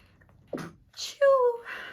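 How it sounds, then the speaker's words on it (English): Single close sneeze: a sharp inhaled build-up, a brief breathy burst, then a loud voiced release that trails off, with quiet background before it. "I have to sneeze."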